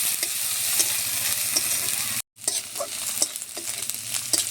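Onion with ginger-garlic paste fries in a pan, a steady bright sizzle broken by a spoon's scraping stirs and a brief cut to silence midway, with no voices.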